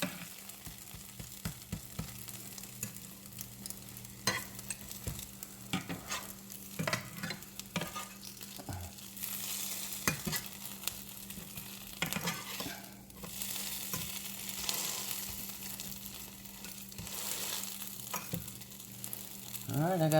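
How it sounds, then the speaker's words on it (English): Food sizzles steadily in a frying pan on a stovetop turned down to medium-low, with scattered crackles and pops and occasional stirring clatter over about twenty seconds. "Alright, I got a couple more I got to fry."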